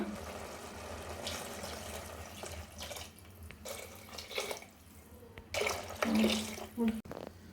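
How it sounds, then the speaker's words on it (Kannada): Water is poured from a glass into a pot of cooking mushrooms for biryani, a close splashing flow in several bursts with faint background noise between. "ಈ ಲೋಟದಲ್ಲಿ ಮೂರು ಲೋಟ ನೀರು ಹಾಕೊಳ್ಳೋಣ"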